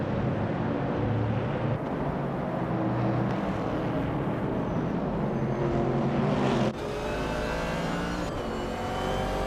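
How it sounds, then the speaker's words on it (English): A 1969 Chevrolet Camaro racing engine roars steadily in a continuous loud drone amid other race cars, with a sharp shift in pitch partway through as the note changes. "Amy is driving a 1969 Chevrolet Camaro"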